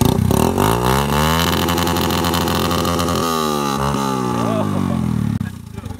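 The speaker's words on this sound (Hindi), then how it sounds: "अपनी बाइक का साउंड सुना, साउंड सुना।" A motorcycle engine revs loud and close with rising and falling pitch sweeps, holding a strong steady drone before cutting off near the end.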